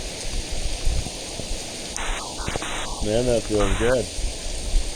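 Steady rain shower falling outdoors on a trip in the Philippines, a constant soft hiss throughout while someone speaks briefly over it.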